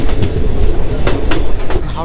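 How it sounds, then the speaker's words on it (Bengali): Train pulling out of Adra station on the Howrah–Purulia line, a steady loud rumble of wheels on rails with periodic clickety-clack bursts from the wagons, close and continuous. "এই সময় হচ্ছে আদ্রা স্টেশন থেকে এই ট্রেনটা ছেড়ে বেরোচ্ছে।"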